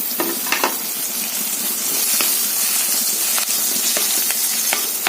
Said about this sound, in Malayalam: ഇനി നമുക്കതിലേക്ക് മുരിങ്ങയില ഇട്ടൊന്ന് ഇളക്കാം